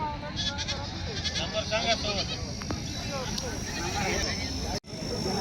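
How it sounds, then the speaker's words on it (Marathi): Goats bleat repeatedly at the Vasmat goat market in Hingoli district, several calls overlapping amid a busy crowd, with people talking nearby throughout and a brief cutout near the end. "वसमत बाजारामध्ये मोठ्या मोठ्या शेळ्या"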